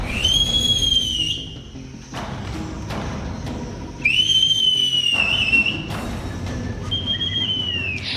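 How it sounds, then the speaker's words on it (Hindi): Sharp, high warning whistles sound from people hidden among tree branches, several long piercing blasts with gaps between them, close and loud against a rustling outdoor background. "पेड़ों की टहनियों के बीच से सीटी की आवाज निकलने लगती है"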